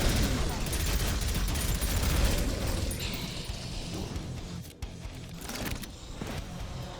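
Rapid, dense gunfire from a heavy weapon in the video game Prodeus fills the whole stretch, loud and continuous with brief dips, over a busy game soundscape.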